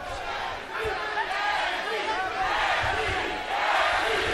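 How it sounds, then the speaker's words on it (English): A boxing crowd chants for Tim Bradley during his 2015 fight against Jessie Vargas, a rhythmic, swelling roar of many voices heard from a distance throughout. "Crowd chanting for Tim Bradley."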